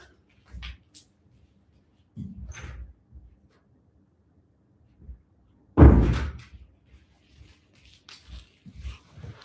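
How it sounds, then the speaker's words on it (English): A door opens with a single loud thump near the middle, set among scattered soft knocks and shuffles in an otherwise quiet indoor room. "Oh, I have to open the door."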